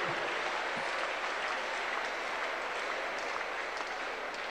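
Congregation clapping together in a church service, a dense, steady wash of applause that stays loud and continuous from start to finish.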